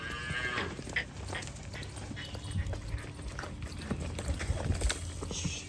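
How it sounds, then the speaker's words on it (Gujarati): A Kankrej cow lows on a farm, with a low moo rising out of a busy outdoor background that includes clip-clop and other animal sounds. "જાવંત્રીની ગાય આવી ભાઈ."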